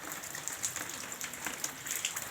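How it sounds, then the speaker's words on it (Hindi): Steady rain falls outdoors around a house among trees, a continuous soft patter of drops on surfaces with occasional louder splashes, close and without voices. "ये कल शाम से लगातार बारिश हो रही है"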